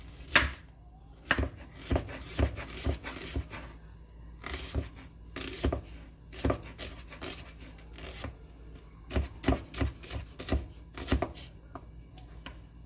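A knife chops onions on a cutting board in close, quiet bursts of crisp taps, some quick runs and some single strokes, with short pauses between and no voices.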